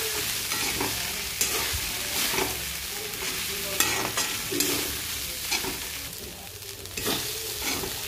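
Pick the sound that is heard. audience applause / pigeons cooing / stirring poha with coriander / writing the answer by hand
stirring poha with coriander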